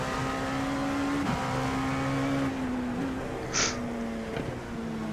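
Race cars sweep down the straight at Charlotte in iRacing, overtaking a Corvette: a steady, loud engine drone with shifting pitch, a brief higher whine near the middle, and no talking.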